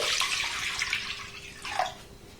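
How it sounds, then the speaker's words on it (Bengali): Water poured into a pot of vegetable soup for momo, a brief close splashing stream that swells again near the end. "এখানে আর একটু আমি জল অ্যাড করছি"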